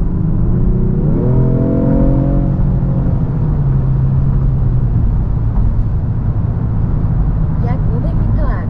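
A facelifted Genesis G70 3.3T speeds up through a tunnel, heard from the cabin. A rising engine tone climbs for a couple of seconds, then settles into a loud, constant road and engine rumble.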